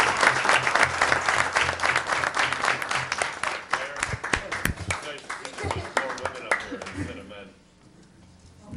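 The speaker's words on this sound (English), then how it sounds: "So thank you all, and you should all be applauded." A room full of people at a city council meeting applauds with dense clapping that runs for about seven seconds, then thins out and fades to quiet near the end.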